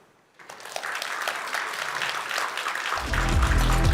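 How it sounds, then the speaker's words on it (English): After a brief silence, an audience at a robot navigation talk breaks into applause for the speaker, a broad, steady clatter of many hands that swells and holds, joined near the end by a low rumbling tone. "Applause to the speaker."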